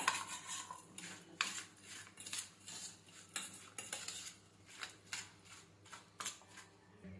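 Metal utensil scraping and clinking against a bowl while gram flour batter with turmeric, salt and baking soda is mixed, in uneven repeated strokes, moderately close with no talking.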